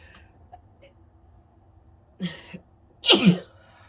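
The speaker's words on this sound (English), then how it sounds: "I'm going to sneeze." A person with a dust allergy lets out a sharp, close sneeze, preceded a moment earlier by a shorter breathy catch, in an otherwise quiet indoor room.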